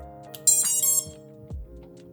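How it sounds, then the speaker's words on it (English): An FPV drone's smoke stopper, plugged into an XT60 connector, emits steady electronic beeping tones when the battery is connected, with a few short clicks and a thump along the way. "If something is not correct, you will hear it with a loud beep."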